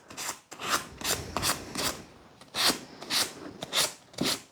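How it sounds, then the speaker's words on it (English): Sandpaper rubbed over a carved wood spirit figure, about eight rhythmic rasping strokes, close and fairly soft, each a short scratchy swish with small gaps between. "I tend to just go over with a bit of sandpaper, take off the rough bits."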